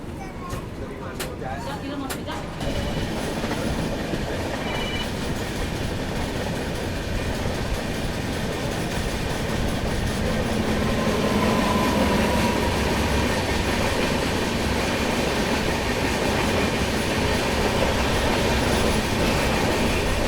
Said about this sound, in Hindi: बाकी सामने से आ रही है दोस्तों हावड़ा मुंबई मेल।